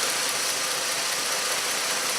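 A 2005 Chrysler Sebring with a bad ignition coil, idling with one coil unplugged, giving a steady, close engine drone with constant hiss and no clear variation, no talking.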